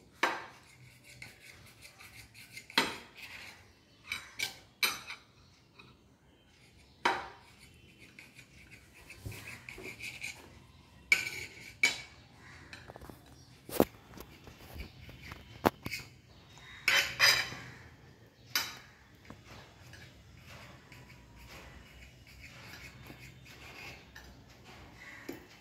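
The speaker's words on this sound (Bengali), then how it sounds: "একটা ছুরি দিয়ে ব্রেডের 4টে সাইড কেটে নেব" A knife slicing the crusts off six slices of bread on a kitchen surface, giving sharp scraping cuts and clinks at irregular intervals, close and fairly quiet, with no talking.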